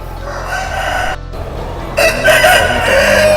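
Several roosters crow loudly and close by at a chicken contest in Pekalongan, one long call overlapping another, over a steady background din of other birds.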